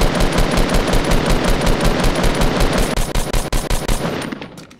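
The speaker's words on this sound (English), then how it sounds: "I'm getting shot at from our left." Rapid automatic gunfire in a first-person shooter video game, loud and close, firing as one fast, steady burst with sharp regular reports that break into scattered shots before trailing off.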